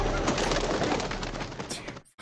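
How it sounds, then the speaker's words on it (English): Pigeons cooing in a movie scene, with dense, close bird calls and fluttering that persist steadily and then cut off abruptly near the end. "Damn fucking pigeons."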